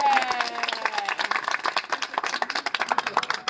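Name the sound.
audience clapping on request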